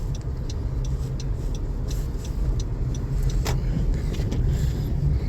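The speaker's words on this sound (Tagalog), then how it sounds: "kung mapapansin nyo yung gulong na sasakyan ko, makakalampag kasi ang kapalan ng snow dun sa ilalim." A garbage truck rolls over thick packed snow, its tires thumping and clunking in irregular knocks over a constant low engine and road rumble, recorded from inside the cab with one sharper bang standing out midway.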